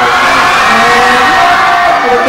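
Fan audience at a photo session event cheering and shouting together in a dense, steady roar that fills the space, with no breaks.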